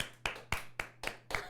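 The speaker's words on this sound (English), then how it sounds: "a warm round of applause from our entire studio audience for Courtney" A small studio audience claps in sharp, evenly spaced beats, about five distinct claps in quick rhythm, close and fairly loud, with no talking over them.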